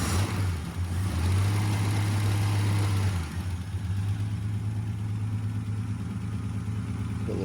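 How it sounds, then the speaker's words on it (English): A 3.0 Ford Capri Ghia barn-find car engine idling steadily at low revs on fuel left in the carburettor, a constant deep hum that dips briefly before settling back into an even drone. "Start it again, so it's effectively running on what's in the carb."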